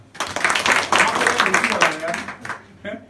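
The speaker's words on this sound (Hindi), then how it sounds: "पहले एक बेटियों के लिए ताली बजाओ।" Students at an inter college in Motipur, Azamgarh, clap for the girls in a short burst of dense, close clapping that fades quickly near the end.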